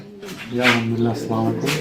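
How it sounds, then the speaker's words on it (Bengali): Several Bombay pigeons coo in low, throaty, rolling calls that overlap steadily, close and fairly loud. "এখানে হিউজ পরিমাণ বোম্বাই কবুতর রয়েছে"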